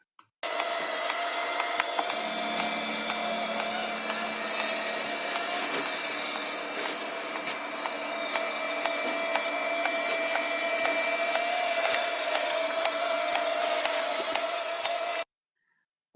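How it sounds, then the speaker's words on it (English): A tiny 20-gram autonomous drone flies continuously for about fifteen seconds with a dense, even whirring buzz and a steady high whine, starting abruptly and cutting off sharply at the end. "there's a fully autonomous, tiny 20-gram drone tracking it"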